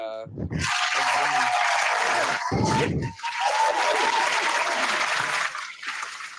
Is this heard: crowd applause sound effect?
yes